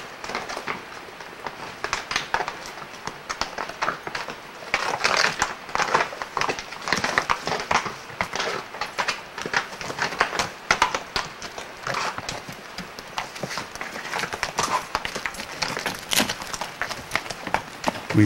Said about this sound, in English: I marveled at how sure-footed the horses and mules were.